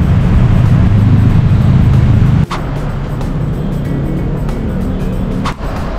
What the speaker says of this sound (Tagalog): Pagdating naman dito, medyo traffic na.